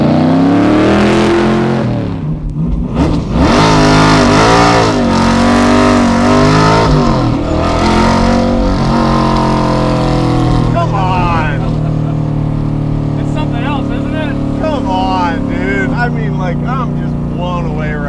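A 550 hp purpose-built C3 Corvette track car engine roars loudly while driving, revving and shifting through rising and falling pitch sweeps, with a steady drone later and people talking over it.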